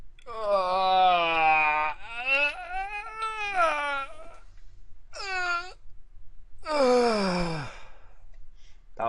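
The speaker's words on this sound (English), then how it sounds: "That was actually a yawn" A man lets out a long, drawn-out vocal yawn during a zombie-themed gaming session. It comes as several loud, groaning, moan-like bursts with a few short pauses, close to the microphone.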